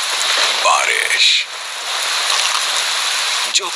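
Steady rain falls across the Thar Desert after days of sandstorms, a dense, even hiss that holds for the whole stretch, with a brief soft voice-like sound early on and a sharp tap near the end.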